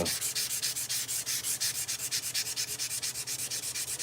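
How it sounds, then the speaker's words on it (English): Hand sanding at a forge workshop produces a quick, rhythmic series of rough rasping strokes, about seven per second, close and steady with no talking. "If I'm hand sanding, it's one of those tasks where I can like, it's repetitive, it's monotonous"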